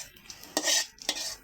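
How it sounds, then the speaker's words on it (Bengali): Kitchen clatter as a lid goes onto a pot of dal with potato in it: two sharp metallic clanks with a brief scrape between, close and fairly quiet, no talking. "এখন এই যে এটা ঢাকা দিয়ে দিব"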